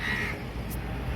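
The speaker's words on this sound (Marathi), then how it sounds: "ते कावळा त्याला बघून ओरडतोय." A crow caws loudly and close by over a steady outdoor background, one harsh call near the start.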